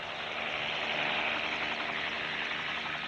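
A helicopter flies over the Sahara desert, its broad engine and rotor roar loud, steady and close for the whole stretch, with no voices.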